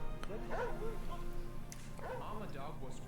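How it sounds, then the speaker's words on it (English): A worried mother dog whimpers and gives short yips and barks near her trapped puppies, thin plaintive cries mixed with people talking close by. "Mama dog was worried to death about her babies."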